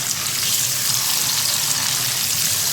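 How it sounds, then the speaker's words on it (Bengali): Eggs frying in hot oil seasoned with turmeric give a steady, dense sizzle that crackles evenly throughout, close and fairly loud, with no voices over it. "চলো ডিমটা একটু ভালো করে ভেজে নিই। তেলে হলুদ দিয়ে নিলে ডিমগুলো কিন্তু হলুদ হয় না?"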